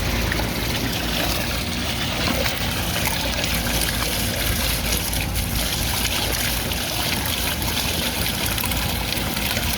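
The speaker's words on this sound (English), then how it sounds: "Let's take another look at the dirty water dump." Dirty cleaning water from scrubbing long-neglected bathroom tiles is dumped out, giving a steady, fairly loud pouring and trickling wash that runs continuously without pause.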